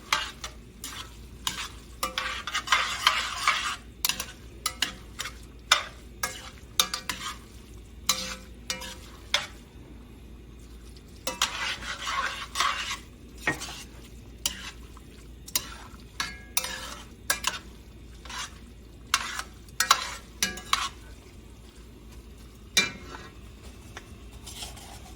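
Noodles tossed with tongs in a hot pan during a high school culinary arts lesson: irregular metallic clicks and scrapes come in bursts over a faint frying sizzle, close, with no speech.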